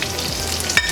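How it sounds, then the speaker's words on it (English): Cauliflower hits a thin layer of hot oil in a pan and fries with a steady, close crackling sizzle, plus a brief louder spatter near the end, with no talking. "Just a little bit oil to cover the bottom of your pan. Put the cauliflower"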